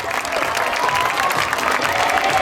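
An audience at a youth bouldering competition applauds steadily and loudly throughout, a dense continuous clapping from a crowd.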